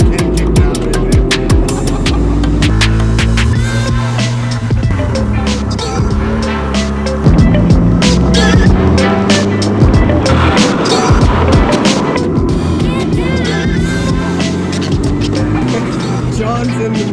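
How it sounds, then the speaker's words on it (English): A 1971 Datsun racing hard on a winding road, tailing an S2000 and a Porsche Boxster, with loud close engine revs rising and falling through gear changes and tire squeal throughout, no talking. "John's in the 1971 Datsun, pushing an S2000 right now."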